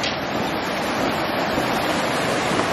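River flowing through the Soča valley canyon in Slovenia, a steady broadband rush of water that stays constant and fairly loud throughout, with no talking.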